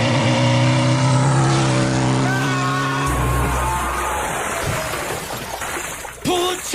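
A motorcycle engine that has broken down runs loudly and close with a steady droning roar, its tone shifting partway through, then fades slightly toward the end.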